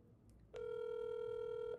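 A WhatsApp voice call ringing tone, a single sustained electronic ring beginning abruptly and holding steady for about a second before stopping, clear and alone.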